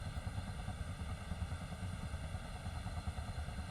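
Ka-50 helicopter engine spooling up during a cold start in DCS World, a steady low turbine rumble and clatter holding at an even level for a few seconds with no talking.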